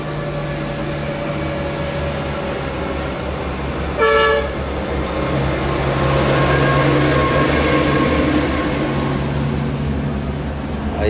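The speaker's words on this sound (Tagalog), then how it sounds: "medyo maingay po dito kasi nandito lang po tayo sa may gilid ng karsada" Busy roadside traffic beside a street, a steady loud roar of passing vehicles with a brief horn toot partway through and another long tonal horn sounding across most of the stretch.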